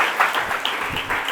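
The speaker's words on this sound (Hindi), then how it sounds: "क्यों ना प्रभु के लिए हम जोरदार ताली बजाएं।" A church congregation claps loudly for the Lord in a fairly close, dense burst of applause, uneven and lively, with no speech over it.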